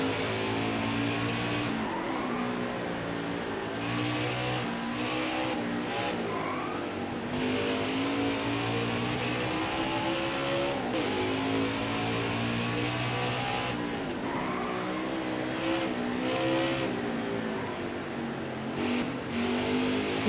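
Race cars lapping the Charlotte Roval in NASCAR Heat 5, steady engine drone with repeated revving and downshifting through turns, occasional tire squeal, continuous and fairly loud.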